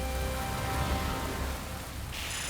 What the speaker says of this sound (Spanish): deben ocultarse de las letales lluvias